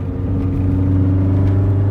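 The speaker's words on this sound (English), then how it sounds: "just tell by obviously the sound of the engine and the exhaust tone" A modified 2004 Subaru STI engine and exhaust holding a steady, droning rev, loud and close with a constant low hum and rumble and no voices over it.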